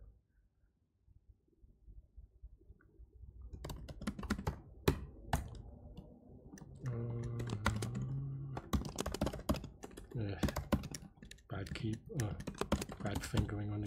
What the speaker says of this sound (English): Bad fingering on the keyboard.